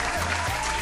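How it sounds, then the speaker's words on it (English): A group of people clap together in steady, dense applause that runs through the whole short moment, fairly close, with no speech over it. "Let's clap it up."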